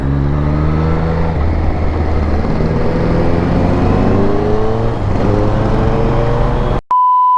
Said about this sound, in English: That exhaust note, dude.